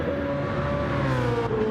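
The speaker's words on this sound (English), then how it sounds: "I've got that BMW, just sounds awesome." A BMW V8 race car in a racing game at the Nurburgring GP circuit, its engine holding a steady, loud high-revving drone throughout with slight pitch shifts, no talk over it.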